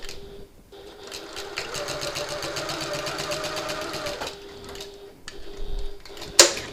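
A sewing machine basting a zip pocket for a reversible hobo bag runs in a fast, steady stitching burst, briefly pauses, then stitches again, ending with a sharp click; near and loud, no speech.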